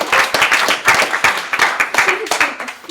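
A room of people claps for a colleague at an education training session, brisk, uneven hand claps that come in close rhythmic bursts, moderately near, with voices talking over parts of the clapping.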